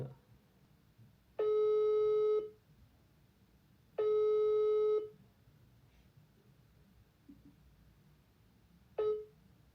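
Ringback tone on an outgoing phone call: two long steady tones with a pause between them, then a third cut short, over faint background noise.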